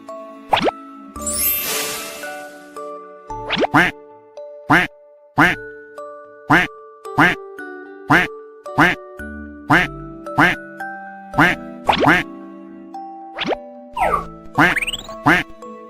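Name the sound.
duck quacking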